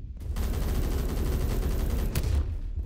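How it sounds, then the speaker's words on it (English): Rapid automatic gunfire from the video game Phantom Forces rattles out in one sustained, loud burst lasting about two seconds, then cuts off sharply into quieter ambience. "Okay, we got some shots from there."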